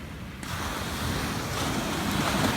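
Steady wash of sea waves breaking nearby on the coast of Portugal, with a rushing, windy roar that swells slightly and continues throughout, no voices.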